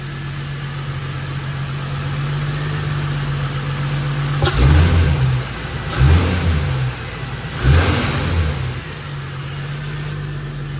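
A Holden VY Calais L67 engine idles with a low steady rumble, then revs up three times in short bursts before settling back to idle.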